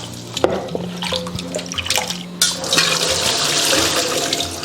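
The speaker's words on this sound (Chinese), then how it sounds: "然后刀清水淘洗一遍" A kitchen knife gets rinsed under clean running water during taro prep, a splashing, gushing stream with clinks near the start, close up and without speech.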